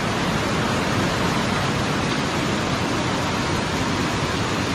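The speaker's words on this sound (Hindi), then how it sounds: "विंटर के सीजन में ये एक छोटा सा स्ट्रीम रहता है" A small village stream in remote Arunachal Pradesh, northeast India, flows in a steady, unbroken rush of water, close and even throughout with no voices.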